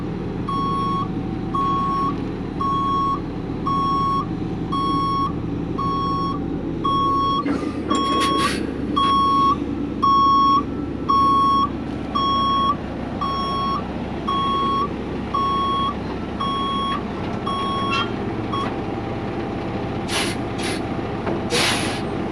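A truck delivering a load of rock reverses with a loud, steady backup beeper sounding about once a second over a rumbling diesel engine. The beeping stops near the end, followed by sharp bursts of air-brake hiss.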